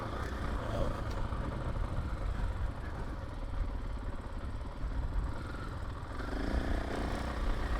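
A KTM 500 EXC-F dirt bike engine drones steadily in second gear on the power map while riding single track, a loud, continuous rough motor note that rises slightly near the end.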